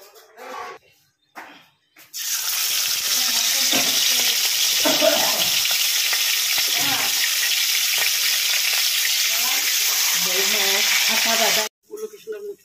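Fish crisping in a pan of hot oil sizzles loudly and steadily for about ten seconds, with faint stirring and scraping underneath; brief quiet kitchen sounds come before and after the frying.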